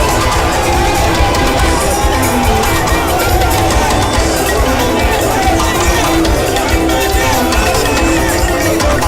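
A large crowd in Guinea cheers and shouts continuously for the President of the Republic, a dense roar of many voices with chatter mixed in, steady and loud throughout.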